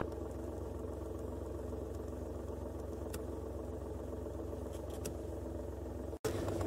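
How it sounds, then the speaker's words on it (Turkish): A car idles and pulls away slowly as its clutch is fully released, a low steady engine hum heard from inside with faint clicks and a brief dropout near the end. "Şu anda aracımız hareket ediyor."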